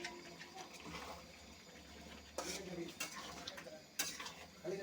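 A spoon stirs fried potatoes into a chicken kosha curry in a pot, giving a few sharp clatters of metal against the pot over a low background hiss.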